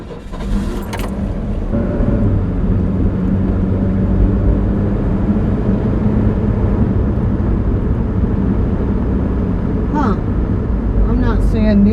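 A car engine starts and runs steadily after a dose of Sea Foam spray, a loud continuous rumble filling the whole stretch, with brief rattles near the start and a voice speaking briefly.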